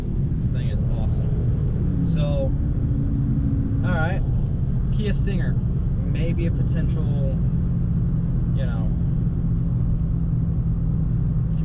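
A 2020 Dodge Charger Scat Pack Widebody with an automatic transmission cruises on the highway, giving a steady low engine and road rumble throughout, with someone talking over it.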